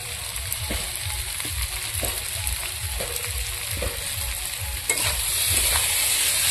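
Fried potatoes and small dried morla fish cooking in a pan of spice paste, a loud steady sizzle with rhythmic scraping stirs every half second or so, close and uninterrupted.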